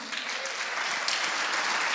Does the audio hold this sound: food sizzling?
no